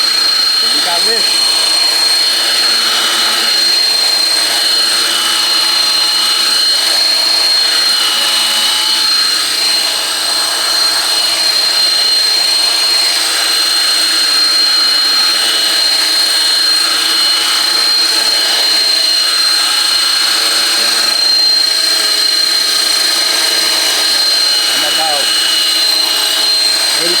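A 3D-printed 450-size RC Sky Crane model helicopter hovers with a loud, continuous high-pitched whine of motor and rotor. The drone stays steady throughout with slight wobbles in pitch.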